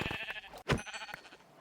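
Sheep bleating in the Minecraft video game, with a single clear bleat standing out over a busy background of game sounds.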